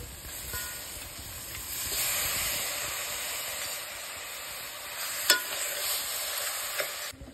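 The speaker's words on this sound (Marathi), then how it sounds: "आता आपण त्याच्यामध्ये मटण घालून घेणार आहोत" Loud, steady sizzling as mutton is added to hot oil tempering, with stirring and a couple of sharp utensil clinks against the pan.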